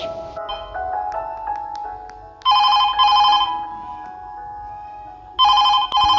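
A black landline telephone rings in two loud electronic bursts separated by a pause, with quieter tones and clicks in between.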